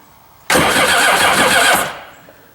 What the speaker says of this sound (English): That's an engine trying to crank.